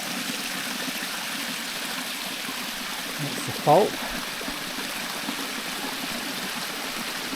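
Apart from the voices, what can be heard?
cold running water stream near hot pool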